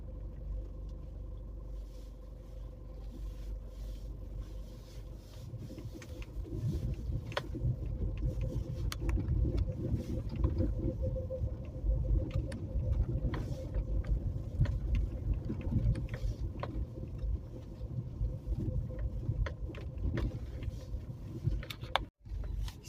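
A car driving home along the road, heard from inside the cabin as a steady, low rumble of engine and tyres that swells slightly after the first few seconds, with no talking.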